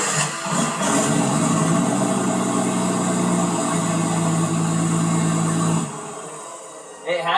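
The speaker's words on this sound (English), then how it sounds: "Rick, you want to fire her up?" Nissan R34 Skyline drag car engine fired up and held at a loud, steady rev for about six seconds before dropping off abruptly, with a brief burst near the end.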